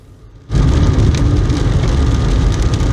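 Heavy rain begins abruptly and keeps up a loud, dense, steady hiss and patter, recorded outdoors on broken frontline roads on the outskirts of Zaporizhzhia.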